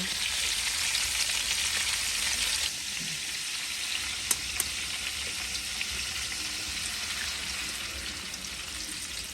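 Garlic and two eggs fry in a pan, a constant close sizzle with occasional clinks and stirring sounds, and no talking.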